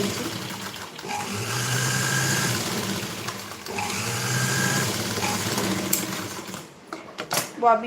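A sewing machine stitches a princess-cut blouse in two long close bursts of steady whirring motor hum, pausing between, followed by handling clatter.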